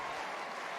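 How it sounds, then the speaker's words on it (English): Crowd at a women's rugby match between the Black Ferns and France, a steady wash of cheering and clapping from a full stadium, continuous and fairly distant. "Great crowd."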